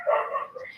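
Dogs bark and whimper indoors in a single brief, fairly loud outburst with a wavering, voice-like tone, close by in a room.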